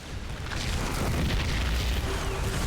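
A Zerg hatchery collapsing in StarCraft 2, a Terran mech versus Zerg match: one sustained low, rumbling boom that holds steady at moderate loudness for a few seconds, with a faint tonal whine near the end.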